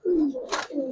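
Giribaz pigeons, a breeding pair, give low cooing calls, two drawn-out coos close by with a brief rustle between them.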